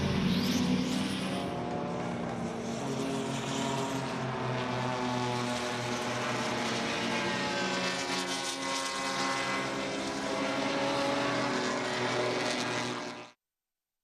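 BMW race cars in a Class D club race roar steadily past on a circuit, a loud continuous engine drone with shifting pitch that holds for about thirteen seconds before cutting off abruptly.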